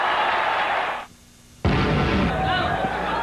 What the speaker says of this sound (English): Crowd is into this one.